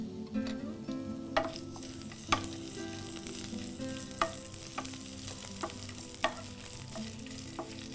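Fennel seeds and green chillies frying in hot oil give a steady close sizzle, broken by a few sharp clinks of stirring.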